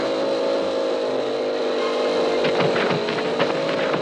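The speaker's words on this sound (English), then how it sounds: "There's something wrong with his engine." A droning motorcycle engine with a fault hums steadily while revving, then sputters and misfires in uneven bursts toward the end, sounding rough and strained.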